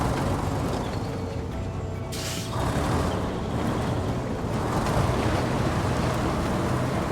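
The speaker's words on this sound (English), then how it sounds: "we're going to go through the water" A vehicle plowing through water in a video game, a broad rushing splash and engine wash that swells midway and stays steady, with no voices.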